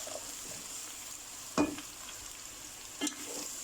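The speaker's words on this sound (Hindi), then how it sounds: "लौकी को थोड़ा सा फ्राई करेंगे।" Bottle gourd (lauki) pieces and onion fry quietly in a pan for a chicken and capsicum curry, a soft steady sizzle broken by two sharp spoon scrapes against the pan.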